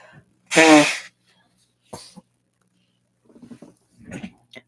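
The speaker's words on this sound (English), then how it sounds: "I'm going to blow my nose" Person blowing their nose, one loud forceful honk up close followed by a brief snuffle, then soft rustling and sniffing in near silence.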